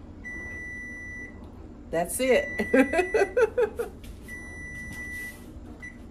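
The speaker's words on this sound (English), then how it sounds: "when the timer goes off, we'll take a look." A steady electronic kitchen timer beep sounds, stops while a person speaks briefly, then resumes.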